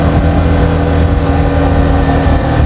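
A Yamaha XSR 155 motorcycle engine while riding: a loud, steady, close mid-pitched drone that holds without a break, with no clear gear-shift changes.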